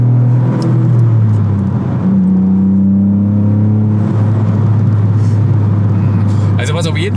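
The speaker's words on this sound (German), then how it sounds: "je aggressiver jemand runterschalten lässt, also je höher die Drehzahl geht, je mehr gibt er auch Zwischengas" A Toyota GR Yaris with a 261 PS engine revs steadily, its pitch rising and falling through a throttle blip on a downshift, close and loud, while people talk over the sound inside the car.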